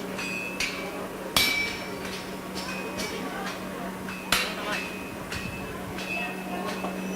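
Sharp hammer blows ring out on hot metal being forged into a dragon head, two loud strikes standing out among lighter taps in a workshop with a steady background hum and people talking.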